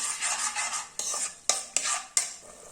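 Chama (barnyard millet) rice with chopped chili stirred in a pot, a spoon scraping steadily then knocking against the rim in four sharp clacks, close and alone.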